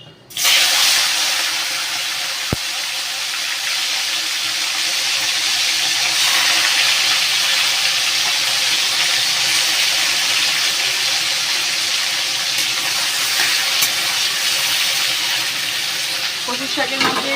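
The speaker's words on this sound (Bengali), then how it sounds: "তেলটা গরম হয়ে গেছে, চিংড়ি মাছগুলো দেওয়া যাক।" Prawns dropped into hot oil set off a loud, steady sizzle that bursts in abruptly and holds strong throughout, with a few faint clinks and stirring noises underneath.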